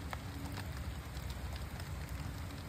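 Rain falling on a Syzygium tree in a home garden, a soft, even patter of drops with scattered sharper taps, steady and fairly quiet throughout.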